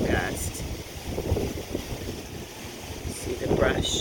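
A gust of Santa Ana wind roars through palm trees and brush in Santa Ana, California, a loud, continuous rushing buffet with microphone rumble that swells and eases across the moment.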